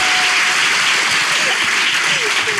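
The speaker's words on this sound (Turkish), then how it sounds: "Alkışlayalım" Studio applause on a Turkish talk show with guests, a dense steady wash of clapping that fills the whole moment, with faint voices and a few tonal squeaks running underneath.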